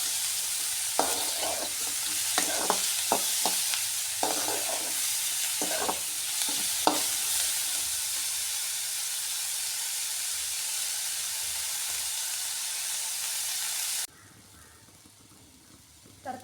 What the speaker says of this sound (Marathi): आणि कांदो चांगलं असं लालसर होईपर्यंत चांगलं भाजून घ्यायचं.